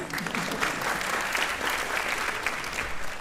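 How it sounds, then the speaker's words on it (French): A conference audience applauds at the opening of a morning session, with dense, steady clapping that fills the room for several seconds without a break. "Vous pouvez m'applaudir évidemment."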